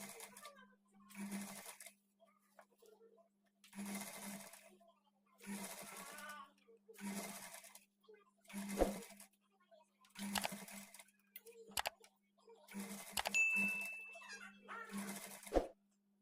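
A sewing machine stitches piping onto a blouse in repeated short bursts of fast, even rattling, each separated by pauses, while someone speaks quietly between and over the runs, with a few sharp clicks near the end.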